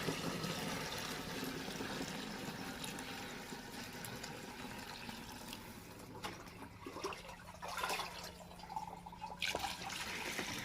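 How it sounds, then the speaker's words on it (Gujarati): A water mixture containing soil trickles and splashes steadily into a 15-litre sprayer pump tank, a continuous close pour that thins toward the end with a few drips and knocks, no voices. "આખો પંપ આજ પાણીથી ભરવાનો છે, 15 લીટર."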